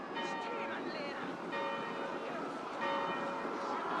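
Church bells in Assassin's Creed Valhalla ring with sustained, overlapping tones, fairly faint and steady over a low hum, with swells around the middle and end.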